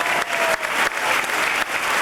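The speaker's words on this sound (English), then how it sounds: "How about a round of applause for all of our Klingons?" Theme-park audience at the Star Trek Adventure attraction at Universal Studios Hollywood clapping for costumed Klingon actors, a loud, steady burst of applause with brief dips, close and continuous.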